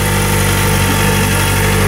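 A steady, throaty ZX-4RR motorcycle engine idles close by, a low rumbling drone with an even pulse and no voices over it.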